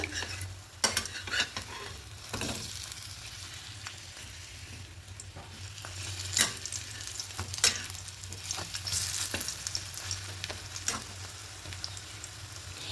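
Bread frying in oil: a constant sizzling hiss with a low hum beneath, interrupted by several sharp scrapes and clicks of a utensil.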